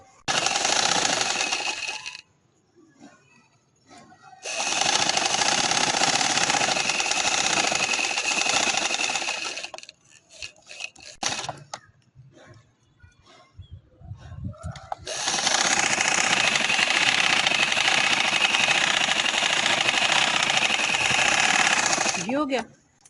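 A sewing machine stitches the seam of a full-sleeve garment in several long, loud runs of rapid mechanical whirring, separated by quieter gaps of handling and small clicks.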